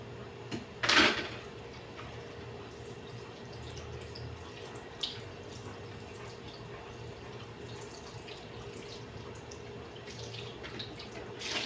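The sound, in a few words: washing food under running tap water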